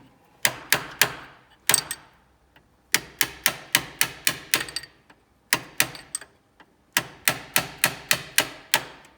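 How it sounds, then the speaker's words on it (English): A metal punch taps gently while fitting a Leyland 262 tractor clutch, crisp metallic taps in quick bursts, several light strikes in a row with short pauses between groups, close and clear. "I've got a punch around here somewhere. Just gentle taps."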